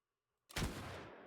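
A single loud gunshot from a period firearm in the feudal-Japan game Mount & Blade Bannerlord cracks out after near silence, then a long rolling tail of echo and battle noise decays away.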